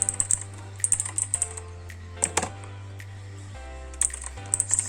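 Typing on a Gigaware Leaven K880 mechanical keyboard, with bursts of clacky keystrokes separated by brief pauses, close and clear over a steady low electrical hum.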